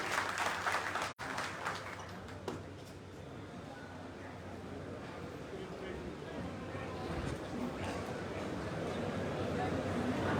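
Crowd applause at a Congress party rally in Haryana, a dense, sustained clatter of many hands clapping that continues throughout, with an announcer's voice over the start.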